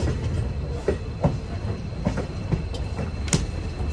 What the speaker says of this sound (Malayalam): ട്രെയിൻ ഇപ്പം ഇതാ സകലേഷ്പൂർ റെയിൽവേ സ്റ്റേഷനിലേക്ക് എത്തിക്കൊണ്ടിരിക്കുകയാണ്